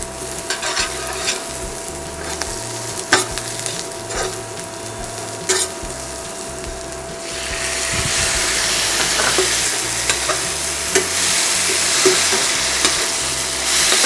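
Green chillies sizzle in oil for dal tadka with clattering spatula stirs, then tomatoes go in and a louder, broader hiss of frying takes over, still stirred, with no talking.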